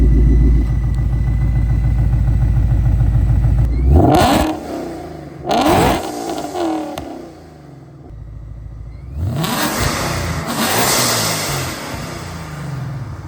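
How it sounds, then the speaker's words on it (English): A 2020 Mustang GT with an XForce 3-inch catback exhaust, valves closed, idles with a low rumble, then revs up in a few swelling bursts before settling and climbing again, loud and close. "And this is what it sounds like with the valves closed."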